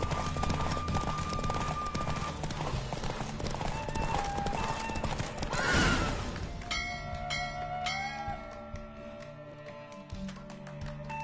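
A horse gallops at speed through a race in the video game The Witcher 3: Wild Hunt, its hoofbeats thudding steadily under loud music and effects. Later the mix thins to brighter tones.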